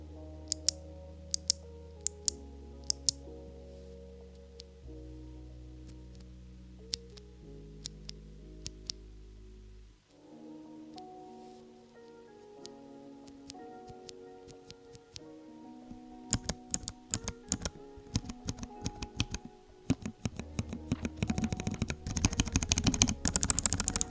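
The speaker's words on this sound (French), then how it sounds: "vous avez les switches bleus clicky, vous avez les switches bruns tactiles et vous avez les switches rouges linéaires" Mechanical keyboard switches, blue clicky, brown tactile and red linear, are pressed in scattered sharp clicks that grow faster and denser toward the end, over quiet background music.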